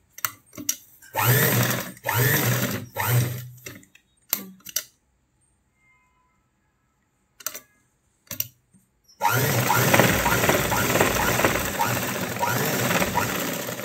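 A sewing machine stitches the side seam of a boat-neck princess-cut blouse in several short bursts, then a long silent pause, then a longer continuous run of close, rapid whirring.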